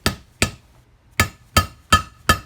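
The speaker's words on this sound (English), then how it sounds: "Now watch the guide as you start tapping it, and you're just gonna seat it." Six sharp metallic taps, evenly spaced with one longer pause, ringing briefly as a valve guide is hammered into a ported LT1 cylinder head, close and loud with no talking.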